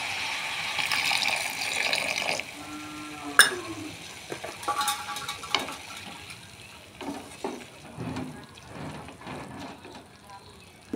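Water poured into a pan of curry, then a soft simmer with scattered utensil clinks and stirring scrapes at close range, loud splashing early then settling into quieter bubbling and knocks.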